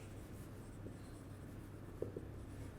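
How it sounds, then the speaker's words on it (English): Handwriting a chemistry definition: a faint, continuous scratch of pen or pencil on paper, close and quiet, with a couple of slightly firmer strokes near the end. "So, we will write this definition"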